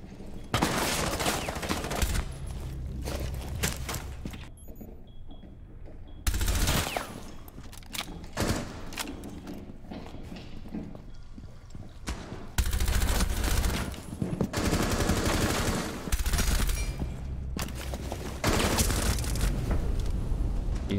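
Sustained automatic gunfire in the video game Rainbow Six Siege, loud repeated bursts with brief pauses between them, close and heavy with booming low-end impacts, no talking over it.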